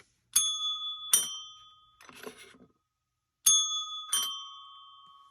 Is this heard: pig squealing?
no